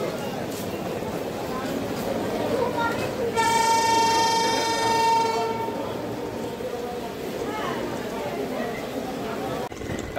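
A passenger train running near Murshidabad, Bengal, a steady rumble throughout with a loud horn blast in the middle, close and continuous.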